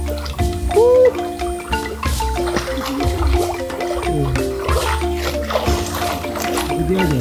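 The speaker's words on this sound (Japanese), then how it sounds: "ちょっと、ジャングルナチュラルシャワーに行きたいなと思います。" Water from a natural jungle shower runs and splashes steadily near a tribal treetop dwelling, a continuous loud wash with scattered tonal sounds and voices mixed in.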